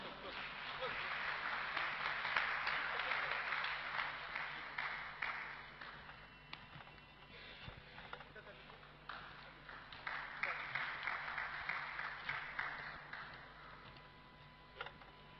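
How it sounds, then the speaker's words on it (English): Scattered audience clapping welcomes a presenter at an education technology ceremony, faint and a little distant, swelling in two waves separated by a brief lull, with sparse individual claps near the end. "Ladies and gentlemen, welcome him with a round of applause."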